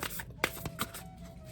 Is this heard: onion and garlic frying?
no